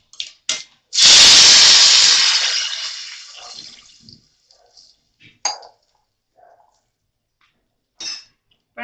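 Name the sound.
water poured into hot pan for wheat flour khichu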